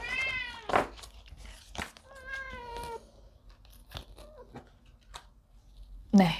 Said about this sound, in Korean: 저희 집 고양이가 지금 잠에서 깨서 막 울기 시작했네요.